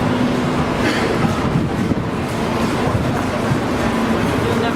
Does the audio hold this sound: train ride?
yes